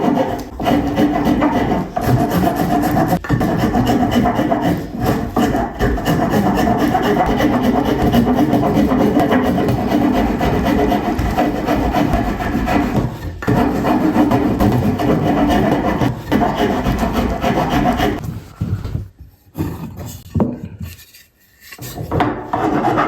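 A rough saw cut in wood on an off-grid cabin build is cleaned up by hand, a loud, steady rasping and rubbing that continues for about twenty seconds before breaking into a few short strokes.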